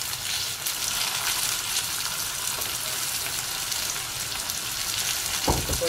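Whole peeled small onions sauté in a pan with an even, close frying sizzle throughout, ending in a short low knock near the end.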